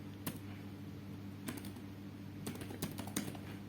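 Typing on a computer keyboard while entering an Excel formula: a handful of quiet, crisp key clicks scattered over a few seconds, a couple in quick pairs, over a faint steady electrical hum.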